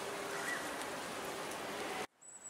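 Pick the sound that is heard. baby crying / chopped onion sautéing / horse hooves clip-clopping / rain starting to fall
rain starting to fall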